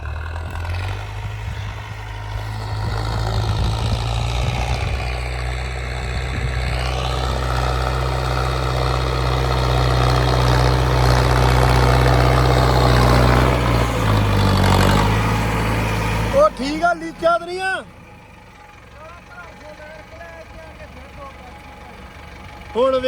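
A low, steady tractor engine rumble runs loud for about sixteen seconds, then cuts out, leaving quieter clatter and a few voices nearby.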